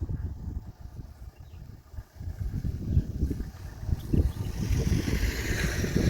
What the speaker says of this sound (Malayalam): തണുത്ത കാറ്റടിക്കുന്നു നല്ല ക്ലൈമറ്റ്